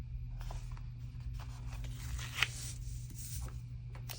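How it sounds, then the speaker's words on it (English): A quote sticker peeled from its backing sheet for a planner spread, heard as faint close rustles and soft papery scrapes with one brief louder crinkle in the middle. "let me get another quote sticker"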